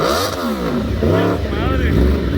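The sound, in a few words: Yamaha R1 motorcycle engine revving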